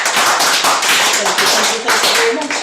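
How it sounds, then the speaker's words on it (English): A room of club members at a meeting breaks into steady, close applause, many hands clapping densely for about three seconds as a voice briefly speaks over it. "Let's applaud."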